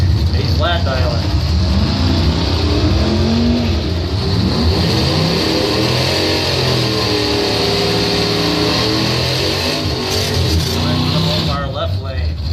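A Firebird drag racing car roars at a drag strip during a points event finals, its engine revving loud and steady, then rising in pitch as it launches down the lane, while an announcer talks over it.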